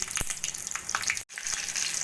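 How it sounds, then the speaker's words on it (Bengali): Black cumin and green chillies sizzle steadily in hot oil in a wok, a close, continuous frying hiss with a brief cut in the middle. "কড়াইতে তেল গরম করে দিয়ে দেব আমি কালো জিরে আর কাঁচা লঙ্কা ফোড়ন"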